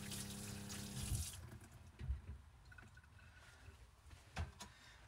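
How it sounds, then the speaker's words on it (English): Tap water running into a sink while hands are washed, a close splashing rush for about a second before cutting off, followed by faint clinks and handling sounds. "Wash my hands again."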